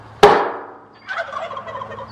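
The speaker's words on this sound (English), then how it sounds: "And the turkeys complain once I make the noise." Turkeys on a farm with a vineyard gobble in response after a sharp close knock, the bright gobbling chorus rising a moment later and carrying on at moderate distance without speech.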